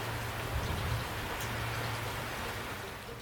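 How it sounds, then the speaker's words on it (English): Steady rain during a storm that followed strong wind, a continuous hissing wash of drops with a low rumbling undertone, fairly close and even throughout. "Then came the rain."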